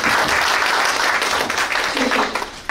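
Shareholders at an annual general meeting applaud the management team, a loud, dense burst of clapping from a crowded room that continues steadily throughout.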